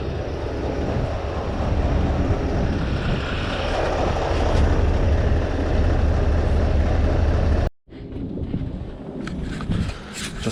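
A Scania truck's V8 engine runs loud and steady close by, a dense rumbling drone that cuts out abruptly near the end, leaving quieter background noise.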